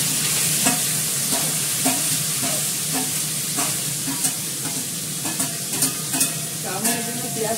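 Chopped bottle gourd going into a hot frying pan with cumin-seed tempering, a loud steady sizzle with stirring scrapes and clinks running throughout, close and alone.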